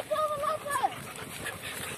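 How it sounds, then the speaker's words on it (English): Dogs whimpering with a rising-falling yelp at the start of a bike ride, short and fairly close, with excited voices over and around it. "Come on, doggies!"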